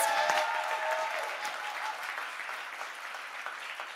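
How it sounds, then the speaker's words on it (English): An awards ceremony and media launch audience breaks into loud, dense applause right at the start. The clapping slowly tapers over a few seconds, with no talk over it. "you need to do one more very loud round of applause"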